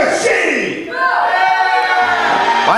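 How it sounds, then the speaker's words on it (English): A wrestling arena crowd at a singles match boos and jeers loudly and continuously as the challenger from Detroit, Michigan enters, with a swell of voices building after a brief dip. "Why are people booing?"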